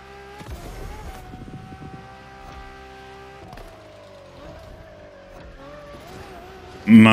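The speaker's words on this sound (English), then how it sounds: "This thing is sliding everywhere." A limousine sliding and skidding in The Crew Motorfest racing game, with a steady engine drone and shifting tire tones running throughout, ending in a sudden loud burst of impact or scraping noise.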